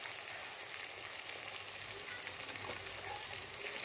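Spices frying in oil in a pan for a Bengali rohu fish curry with mustard, poppy seed and sesame, giving a steady close sizzle and crackle throughout with no talking.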